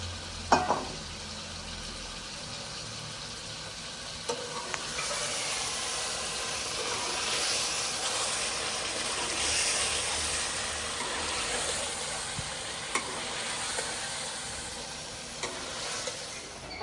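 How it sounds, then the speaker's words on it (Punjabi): Meat frying and being stirred in masala in a home kitchen, a steady loud sizzle and hiss with scraping stirs and occasional clanks of the utensil against the pot. "ਇਹਦੇ ਵਿੱਚ ਗੋਸ਼ਤ ਪਾਵਾਂਗੀ ਤੇ ਗੋਸ਼ਤ ਨੂੰ ਨਾ ਚੰਗੀ ਤਰ੍ਹਾਂ ਭੁੰਨਾਂਗੀ ਮਸਾਲੇ ਦੇ ਵਿੱਚ"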